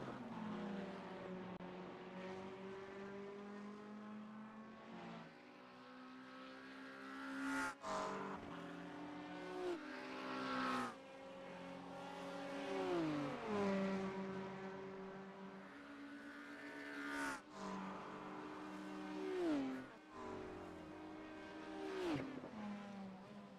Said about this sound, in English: This BMW is driving pretty well tonight for Vincenzo Stagnito.